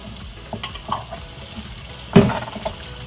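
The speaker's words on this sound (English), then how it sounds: "For it to be partially cooked, the onions, you'll cook them for about 4 minutes." Onions frying in a pan while being stirred for a pasta dish, a soft steady sizzle with a few scraping stirs and one louder clatter, close up with no talking.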